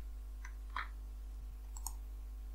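Faint, sparse clicks of a computer mouse, about three brief taps spread over a couple of seconds against a steady low hum, with no talking.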